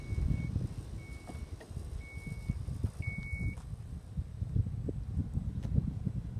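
A 2015 Dodge Grand Caravan's power liftgate opens at the press of a button, signalled by a short series of repeated high warning beeps over steady outdoor wind and rumbling background noise.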